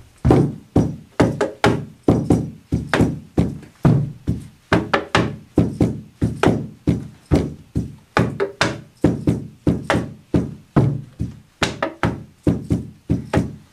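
Steady, interlocking rhythm of wooden stick knocks and hollow bottle taps, close and even, repeating without pause and without any voices.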